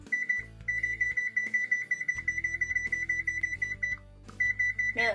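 An oven timer alarm beeps in a rapid, steady chirping series that runs for several seconds, breaks off briefly, then resumes, with a low background hum underneath.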